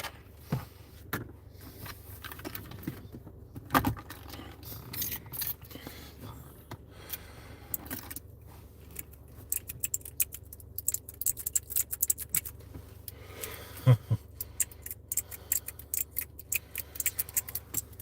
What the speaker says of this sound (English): My little keyboard